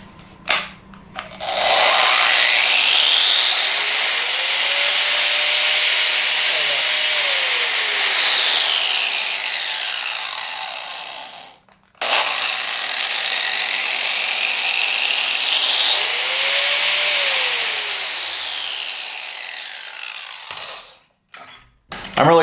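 Angle grinder running off a Pecron E600 LFP portable power station, two long loud whining runs that spin up, hold steady and wind down, separated by a short pause, with a final brief burst at the end.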